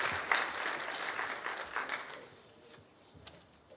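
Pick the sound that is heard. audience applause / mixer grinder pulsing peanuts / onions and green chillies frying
audience applause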